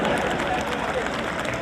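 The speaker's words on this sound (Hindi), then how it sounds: "यहाँ तो पुलिस तक बजा रही ताली।" Audience clapping at a Hindi kavi sammelan, a dense, steady wash of applause from a large crowd with no breaks.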